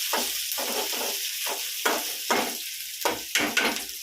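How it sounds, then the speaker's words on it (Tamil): Onions sautéing in ghee for prawn biryani, with bursts of sizzle and spatula stirring coming in irregular strokes over a soft hiss, close up with no voices. "அப்படியே வதங்கட்டப்பா வெங்காயம்"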